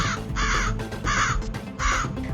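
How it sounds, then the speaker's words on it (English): Several crows caw loudly in repeated harsh bursts, three clear rounds of calls with brief pauses between, close and alone without talk. "many crows started coming down to peck at them all."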